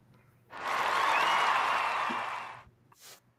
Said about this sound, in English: I just gotta give applause.